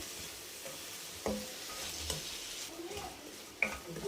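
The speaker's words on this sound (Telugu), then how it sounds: "ఇప్పుడు వీటిని పచ్చివాసన పోయేంత వరకు ఉడికనివ్వాలండి" Onions with chilli powder and salt cooking in a pan for fish curry, giving a soft steady sizzle with occasional stirring scrapes and a few clinks, fairly quiet and close.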